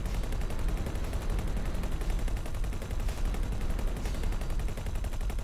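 Missile fire in the space game X4: Foundations, a dense, continuous rattle of rapid launches and blasts, loud and unbroken throughout with no pauses.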